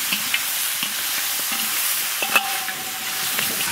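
Beef ribs tumble with scallion, ginger, dried chili and Sichuan pepper in hot caramelized sugar, giving a steady, close hiss of frying with a few soft stirring knocks and one brief higher tone.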